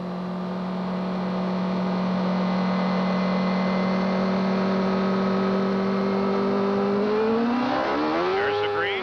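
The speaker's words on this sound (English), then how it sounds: "Let's listen to the motor." Nigel Mansell's CART race car sits at a loud, steady idle-to-mid drone that swells into a rising, accelerating roar near the end as the green flag drops, with commentary talking over it.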